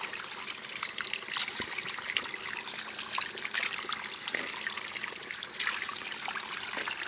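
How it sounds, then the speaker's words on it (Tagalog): Mountain water runs steadily from a tap or spout outdoors while someone washes their hands and face; a continuous close trickle and splash with no pauses. "Maghugas ng kamay at maghilamos."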